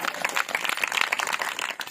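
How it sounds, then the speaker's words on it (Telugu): An audience at a Christian devotional gathering claps in a brief, dense patter of hand claps that lasts under two seconds at moderate loudness. "చప్పట్లు కొడదామా?"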